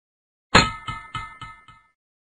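A metal pan struck sharply, giving a bright clanging ring, followed by several quicker, weaker strikes in a short diminishing series, each with a brief shimmering decay, with no talking.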